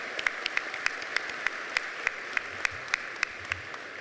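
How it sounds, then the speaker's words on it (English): Steady applause from an audience, a dense patter of many hands clapping with sharper individual claps standing out, no voices over it. "they deserve a round of applause"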